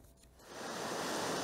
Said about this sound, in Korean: 서핑보드에 올라 일렁이는 파도에 몸을 맡깁니다.